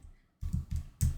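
Soft keystrokes on a computer keyboard, a brief quiet pause and then a few quick close clusters of clicks, faint and with no voices.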